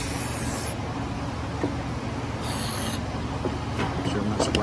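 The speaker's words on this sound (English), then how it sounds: "WD-40 yet too, so you spray it real good." WD-40 sprayed onto the gummed-up fuel injection pump of an IH 574 tractor, a steady close hiss running through the clip in a few bursts.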